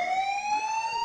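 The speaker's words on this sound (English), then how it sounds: "why do you keep setting the alarm off?" An alarm blaring in the Contagion video game, a loud continuous electronic tone slowly rising in pitch, sounding alone without any talk.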